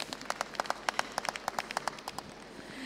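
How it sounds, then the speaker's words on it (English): A small audience claps for a young handler at a national alpaca show, giving quiet, scattered applause heard from a distance that thins out toward the end. "So let's give her a big round of applause."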